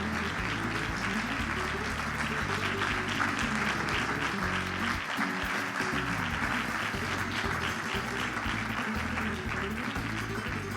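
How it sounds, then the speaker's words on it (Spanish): A studio audience gives loud, sustained applause to welcome podcast co-hosts, with background music playing continuously underneath throughout. "Me gustaría que recibierais con un fuerte aplauso a Samuel, a Fernando, a Josué y a Javier Hum"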